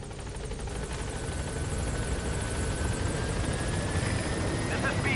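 In the Metal Gear Solid V video game, a helicopter arrives at a landing zone with a loud, steady rotor roar and a thin rising engine whine, filling the scene closely from start to finish.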